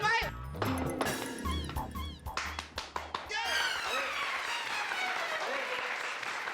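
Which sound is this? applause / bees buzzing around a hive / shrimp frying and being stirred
applause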